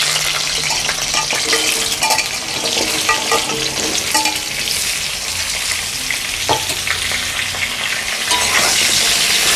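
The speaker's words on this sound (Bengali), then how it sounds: "কুমড়োটা ভেজে নেব।" Pumpkin pieces sizzling in hot oil in a pan for a vegetarian pumpkin-potato dish, with steady loud frying hiss and repeated scraping clinks of a spatula stirring.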